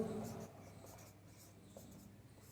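A pen scratches across paper in short strokes, faint and close, during a Hindi lesson on writing out a context note for a Rahim couplet.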